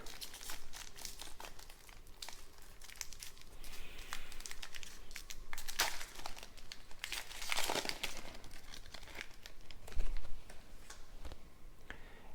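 A pack of 2024-25 O-Pee-Chee Platinum hockey cards is torn open slowly, giving a long run of close, crinkling foil and tearing wrapper sounds with occasional sharper rips and rustles. There is no speech.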